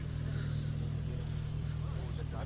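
Volkswagen GTI cars drive a mountain road up to Jebel Jais in a club convoy, giving a steady, close, low engine drone that holds evenly throughout without clear revving.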